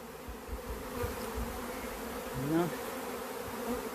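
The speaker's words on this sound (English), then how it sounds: "But it's just a small cluster of bees." Killer bees hum around a small cluster close by, a continuous droning buzz with individual insects swelling louder as they pass near, alone without speech.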